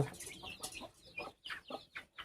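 Chickens cluck in a run of short, close bursts, with brief gaps between them and no voices.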